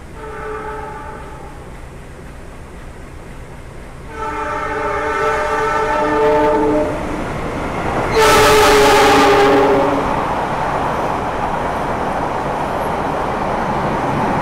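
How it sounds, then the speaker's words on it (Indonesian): A passenger train, likely the Sancaka from Yogyakarta, rumbles past steadily while its horn sounds in several long blasts, with a sharp hissing burst near the end. "Yang baru saja melintas itu nampaknya kereta api Sancaka dari stasiun Yogyakarta"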